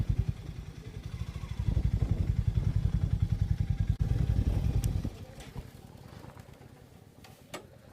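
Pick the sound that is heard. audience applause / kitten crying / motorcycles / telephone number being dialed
motorcycles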